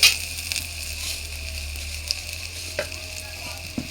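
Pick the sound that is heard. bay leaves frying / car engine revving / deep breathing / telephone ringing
bay leaves frying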